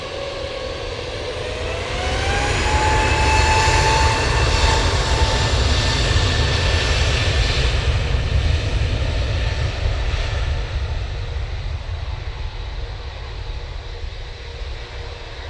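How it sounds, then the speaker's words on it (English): Emirates flight EK21 from Dubai on short final to Manchester Airport: a loud jet roar swells in with a rising engine whine, peaks in the middle and slowly fades away, with no talking. "Emirates EK21 now on short final for 2-3."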